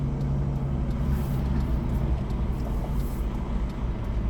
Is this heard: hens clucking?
no